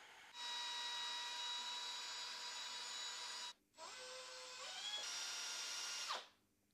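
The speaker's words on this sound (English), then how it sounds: "I give these a pretty decent twist in the drill" A power drill spins for several seconds twisting insulated wires together for a 6V6 JCM800-style guitar amp build, with a steady whine, a brief pause, then a second run that shifts pitch before stopping.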